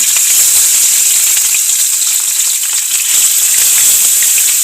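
Food for a home-cooked dish frying in hot oil, a loud, continuous close-up sizzle with dense spattering and crackle throughout and no talking.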